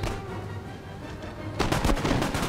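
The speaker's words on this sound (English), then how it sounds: "my line infantry is going to shoot at them one last time here" Line infantry in Empire Total War fire a musket volley against Maratha troops, a dense rolling crackle of many overlapping shots that swells loudly partway through and continues under battlefield noise.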